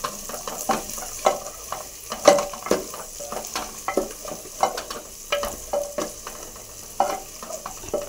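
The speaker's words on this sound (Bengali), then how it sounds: "এবার আদা রসুনটা দিয়ে একটু কষা কষা করব।" Meat fries with ginger-garlic paste in a hot pan, a steady sizzle broken by a rhythmic series of stirring scrapes and clatters close by.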